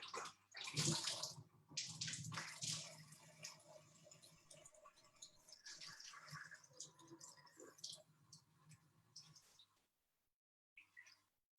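Water runs and splashes steadily into a vessel, loud at first and tapering off, with a brief pause before a final short trickle.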